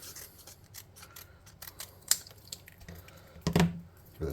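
Scissors snipping paper trim for a futuristic battery prop for a tabletop roleplaying game, a string of crisp close cuts at an uneven pace with a sharper, louder snip near the end.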